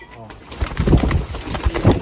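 Black-faced Sialkoti pigeons on a rooftop give low, throaty cooing calls in short repeated phrases. The calls are close and fairly loud, with people talking nearby.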